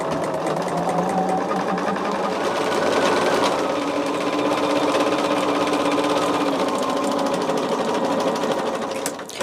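A sewing machine stitches rows onto a quilt block with nested seams, a close continuous rapid needle clatter and motor hum running steadily, with a slight slowdown near the end.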